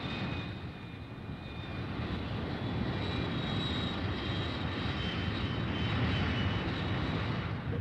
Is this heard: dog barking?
no